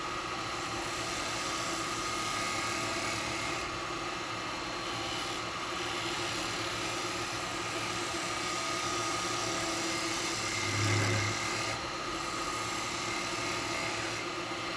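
A lathe turns a piece of wet eucalyptus while a square carbide tool cuts, giving a steady, loud, broadband whirring hiss that runs on without a break, with a brief low thump near the end.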